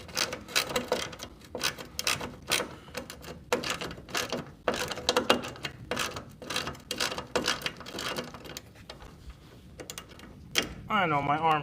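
A half-inch ratchet wrench is turned on a truck, giving long runs of rapid, close clicking bursts in an uneven rhythm, with a brief whirring mechanical sound near the end.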